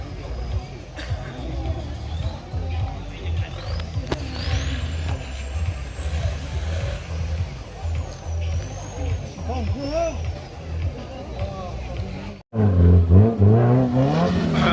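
An off-road vehicle runs a solo show at an off-road challenge at an outdoor festival, its engine rumbling and revving under constant crowd babble and talk, and it surges loudly near the end.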